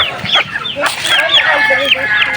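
Several white chickens cluck and squawk in a busy, overlapping chorus, close by, with a rooster-like call rising briefly among them.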